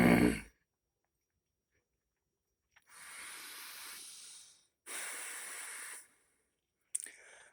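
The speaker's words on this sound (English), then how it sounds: "That's why I'm sniffling and gagging all the time." A few close, breathy sniffles in succession from someone with bad sinuses, hissy nasal inhales separated by brief silences.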